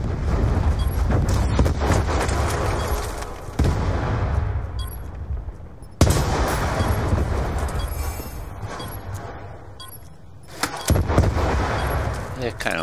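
Rapid automatic gunfire from Black Ops 2 on Xbox 360, a Sharpshooter party-game match, rattles in loud continuous bursts, broken by short pauses around three and ten seconds, while a voice talks over the shooting.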